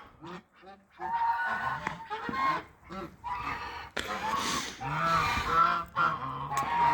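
Geese on snow honk loudly and repeatedly at close range, their calls overlapping in ragged bursts with a few sharper cries.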